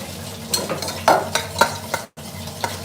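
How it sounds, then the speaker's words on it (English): A whisk scrapes and stirs through a cracked black pepper roux in a pan, producing several rhythmic swishes and clinks over a low sizzle, close and moderately loud. "I'm gonna whisk him up."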